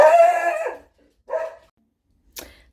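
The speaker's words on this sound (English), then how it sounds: "That was my little puppy, my Dutchie" A small puppy barks at visitors: one long, wavering yelp, then a shorter bark and a brief final yip, close by and alone with silence between them.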